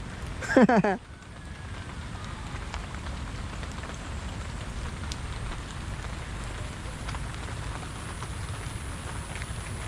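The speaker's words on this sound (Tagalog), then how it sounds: "Biglang ulan" Steady rain patters and hisses on a surface, preceded by a brief loud burst of sound at the start.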